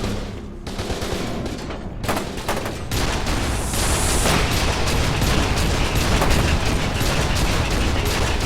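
Mounted turret gunfire in the shooter F.E.A.R. 2, with dense, continuous bursts of automatic fire that build in loudness and run close and heavy for the whole stretch, mixed with mechanical clatter and booms.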